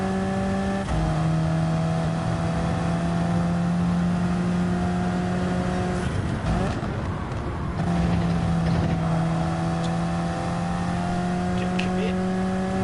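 A Toyota Supra drives off with a loud, steady engine drone broken by brief dips like gear changes, sounding close and continuous while someone talks over it.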